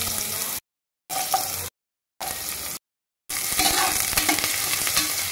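Carrot pieces sizzling and frying in hot oil with cumin seeds, a bright crackling hiss in several short bursts separated by silent gaps, with occasional stirring.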